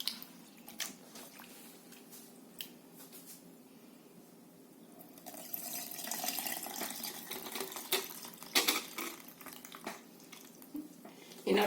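Tamarind soaked in water being squeezed and dissolved by hand, then poured, for pani puri; soft wet squishing and dripping close up, growing into a steadier splashing pour in the second half.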